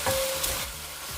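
Fish cake stir-fried quickly with seasoning sauce over medium heat, a short soft sizzle with a brief clink of the utensil near the start.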